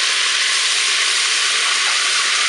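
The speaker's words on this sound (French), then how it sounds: "Je vais maintenant ajouter dans ma cuve le vinaigre." Vinegar poured into a hot Cookeo multicooker pot sizzles loudly, a steady close hiss of frying and steam that holds unbroken from start to finish with no voices.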